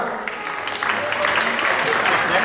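An audience claps, and the applause builds from a scattered start into full, sustained clapping in an indoor hall at a Ganapathi festival event, with a voice speaking faintly beneath it.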